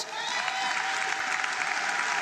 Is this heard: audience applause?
yes